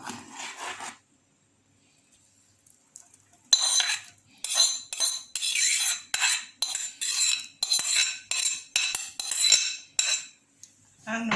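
Saltfish goes into a pot and is stirred for a Jamaican run down, a short scrape, a pause, then a rhythmic series of close metal spoon scrapes and clinks against the pot, with no talking.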